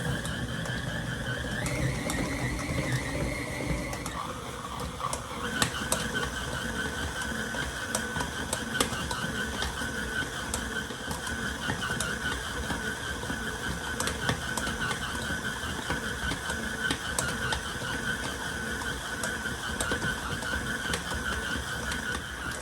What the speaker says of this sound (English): I use my mixer. I'm gonna let this knead for about 5 minutes.